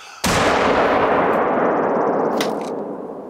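A single loud, close hunting rifle shot in The Hunter: Call of the Wild, a sharp crack followed by a long rolling echo that slowly fades across open terrain in Cuatro Colinas.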